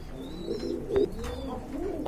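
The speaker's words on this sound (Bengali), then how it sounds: "আর এখানে দেখতে পাচ্ছেন আপনারা অনেকগুলো কবুতর রয়েছে" Many pigeons kept for sale at a bird market coo together in a low, steady murmur, with a few louder coos rising briefly above the crowd of birds.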